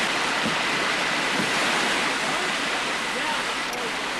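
Broad, continuous rushing roar of river rapids on a canoe slalom course, with white water churning steadily and loudly throughout.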